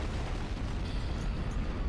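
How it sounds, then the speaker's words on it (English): The Monokuma bear blows up in the Danganronpa: Trigger Happy Havoc video game, a loud, sustained, rumbling explosion that fills the whole short stretch with dense low roar and no voices. "He threw Monokuma, and as soon as he did, explosion!"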